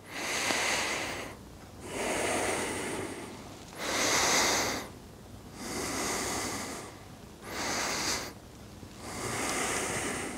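Deep, slow breathing during exercise, with five long rushing inhale-exhale swells repeating at a steady rhythm, close and fairly loud, with no talk.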